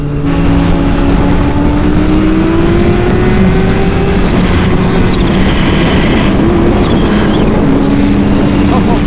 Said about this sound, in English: Downshifts sound great on this bike.